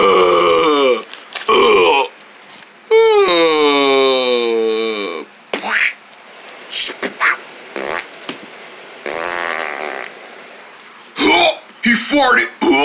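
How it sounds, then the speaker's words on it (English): A person's loud, drawn-out fart with a rising and falling buzzy tone comes among several short bursts of similar crude noises and excited voices close by. "He farted."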